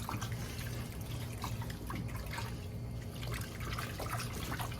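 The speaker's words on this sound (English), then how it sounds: "Just kind of stir it around that warm water, rinse that dirt off." Freshly harvested broccoli being stirred and rinsed in warm water to wash off dirt and earwigs, with a continuous soft sloshing and trickling of water up close.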